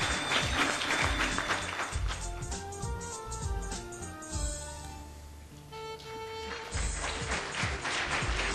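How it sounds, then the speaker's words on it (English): Audience clapping for an award winner at a 2012 ACCA award ceremony, mixed with loud stage music carrying sustained tones and rhythmic beats over the applause. "A lot of clapping for her."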